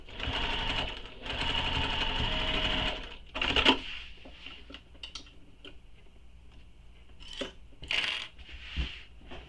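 A home sewing machine runs a seam on a mini backpack, its motor whirring steadily for about three seconds, then a few short bursts and clicks as the fabric is adjusted, close and clear with no talking.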